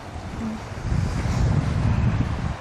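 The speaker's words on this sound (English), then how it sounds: "it's really windy, but it's not an easily cold, icy wind" Blustery wind buffeting the microphone, a steady low rumble with gusts, alone and close.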